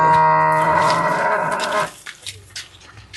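A cow in a Wayanad farm setting lets out one loud, drawn-out moo close by, followed by quiet rustling and faint background sounds.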